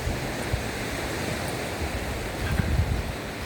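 Waves washing on a seashore with wind buffeting the microphone on a walk, a continuous broad rushing roar that swells slightly near the end.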